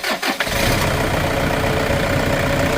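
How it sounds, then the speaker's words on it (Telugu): A Toyota Innova's engine cranks briefly and catches within the first half second, then settles into a loud, steady idle that continues close to the microphone. "ఒకసారి అలాగే మనకి బండి స్టార్ట్ చేసి కూడా చూపిస్తాను."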